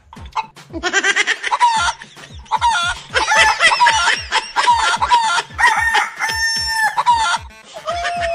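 People in a comedy skit imitate chickens with their voices, making loud, rapid, repeated clucks and crowing calls almost without pause.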